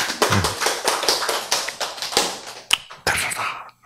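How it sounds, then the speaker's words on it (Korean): An audience applauds during a lecture, a dense, steady burst of many hands clapping close by that carries on for several seconds before stopping abruptly near the end. "박수."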